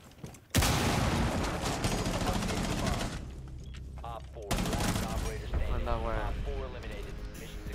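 Continuous loud bursts of Rainbow Six Siege gunfire, with rapid automatic shots, while a voice talks over the noise.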